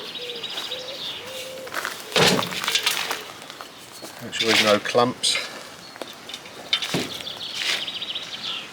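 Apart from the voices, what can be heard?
birds singing in rural France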